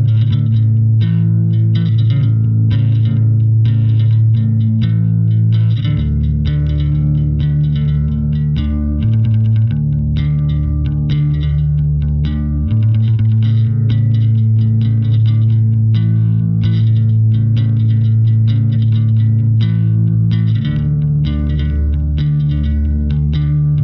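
An electric guitar plays shimmering chords through an EarthQuaker Devices C Machine chorus pedal, the tone warbling and thick with some grit, chords changing every few seconds.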